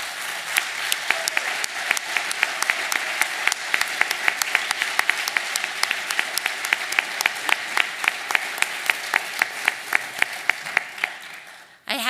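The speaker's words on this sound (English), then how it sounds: "Let's give them the applause that they deserve." An audience at a distinguished alumni awards ceremony gives sustained applause, a dense steady clatter of many hands with a few sharp nearby claps standing out, before cutting off abruptly at the end.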